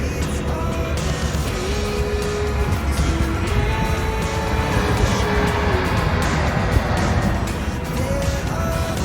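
A jet airplane passes over the Gibraltar runway, a loud continuous broadband roar that swells slightly mid-way and holds steady, with faint tonal whines over it.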